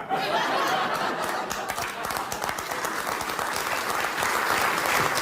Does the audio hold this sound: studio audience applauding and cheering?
yes